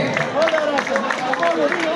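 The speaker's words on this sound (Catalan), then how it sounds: "un fort aplaudiment per aquest jovent de Calella" Audience clapping for a group of young people from Calella at a Ball Pagès folk dance presentation at a country fair in Maçanet, steady rhythmic claps from a crowd mixed with a murmur of voices.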